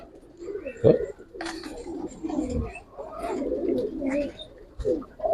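Giribaz pigeons coo in soft, throaty bursts, several overlapping low calls close by, broken by brief rustles and a couple of sharp knocks.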